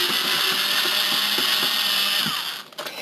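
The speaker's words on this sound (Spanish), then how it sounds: "Entonces lo destornillamos." A hand screwdriver unscrews the casing screws of a PS4 fat console, a steady close ratcheting click that runs continuously over a hiss-like background before breaking off near the end, with no talking.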